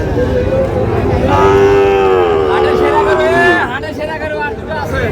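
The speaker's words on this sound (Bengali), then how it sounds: "হাটের সেরা গরু।" Shahiwal cattle at a crowded livestock market give a long, loud moo that rises and falls for about two seconds, then fades into the hum of the crowd and people talking.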